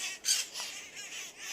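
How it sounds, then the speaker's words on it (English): Parrots eating apples give short harsh squawks, several quick calls in a row at moderate distance, with no talk over them. "I got about, 50 parrots."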